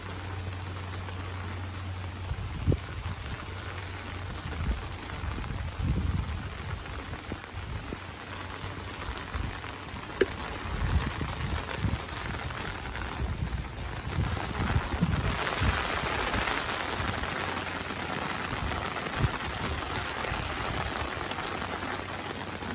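Raindrops falling on an umbrella, a close, steady patter of many small taps with occasional heavier drips, soft and continuous without speech.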